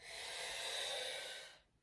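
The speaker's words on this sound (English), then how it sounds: "Now breathing in through a straw all the way to the top." A single long, slow inhale drawn as if through a straw during yoga breathwork, a close, airy, steady hiss lasting about a second and a half before fading out.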